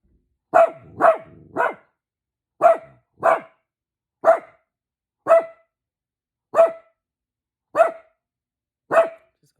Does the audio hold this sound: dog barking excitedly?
yes